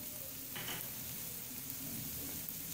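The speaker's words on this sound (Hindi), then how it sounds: "अब इस पॉइंट पे हम इसमें अपनी कुटी हुई लाल मिर्च भी डाल लेंगे" Crushed red chili dropped into a hot frying pan for a chicken filling, giving a steady close sizzle with a brief brighter crackle as the chili hits the oil, no voices.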